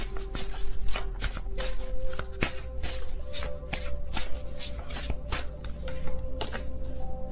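Tarot cards shuffled by hand in a steady run of crisp riffles and soft slaps, close up, with a faint tonal hum underneath.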